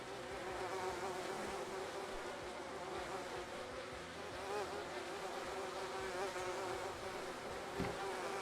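Bees buzz in a base built in a video game. A dense, steady drone keeps going at an even level with no talk.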